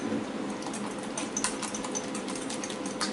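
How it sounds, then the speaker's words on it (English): Keto chaffle batter with salt and pepper being whisked by hand in a small bowl, a steady continuous scraping and rapid clicking that runs without a break, fairly close, with no talking over it. "We're just going to whisk that up"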